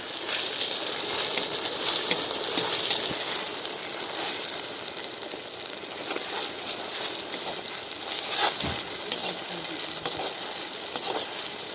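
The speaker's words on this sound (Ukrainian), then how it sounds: "Ну, все смажиться." Continuous sizzling from tomato paste and onions frying in a pan, a steady crackling hiss with occasional pops, close up.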